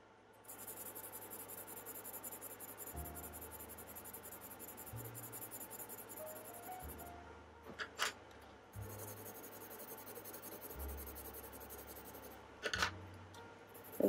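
Colored pencil swatching on paper, a salmon and golden yellow blend laid down lightly: a steady soft scratchy scraping of pencil lead across the page, continuous strokes with brief pauses, close and quiet with no talking.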